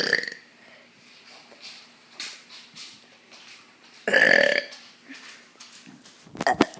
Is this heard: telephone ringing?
no